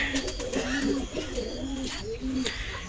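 Pigeons coo close by in a series of low, rolling throaty calls, several overlapping phrases against faint background noise.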